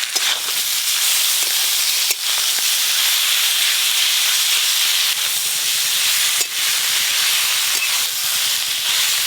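Ground banana flower paste fries in mustard oil with spiced potatoes, giving off a loud, continuous hiss with a few brief dips and no voices.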